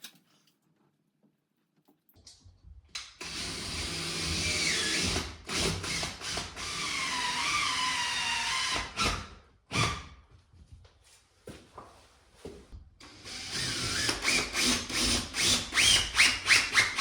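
A power drill drives temporary screws into a welding fume extraction system, whirring in several bursts between quiet pauses, with high whining tones and rapid ratcheting pulses close by, and no talking.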